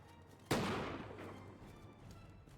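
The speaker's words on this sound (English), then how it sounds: "The first of the shots have been fired" A single musket shot rings out in Bannerlord, set in a Europe 1700 battle, a sharp, fairly close crack followed by a long echoing decay that rolls away over the field.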